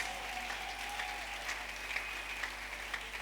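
Church congregation at a Sunday service applauding and acclaiming the Lord, steady sustained clapping from many hands with scattered cheers rising above it, moderately loud and continuous.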